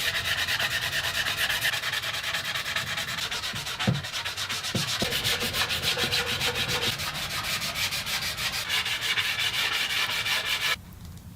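Rapid, steady rasping of sandpaper worked back and forth over wooden shelf pieces, close and continuous with a couple of small knocks, stopping abruptly near the end.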